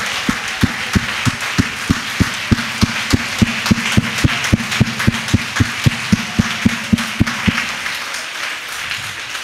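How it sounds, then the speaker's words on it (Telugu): A church congregation clapping hands in thanks, loud rhythmic unison claps beating at a steady quick pulse over a bed of scattered applause, then fading out near the end. "చప్పట్లో కొట్టి ఆయన కృతజ్ఞత చెల్లిద్దాం"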